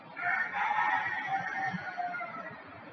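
A rooster crows among clucking chickens in a steady, sustained call that holds for about three seconds at moderate loudness, with no voices over it.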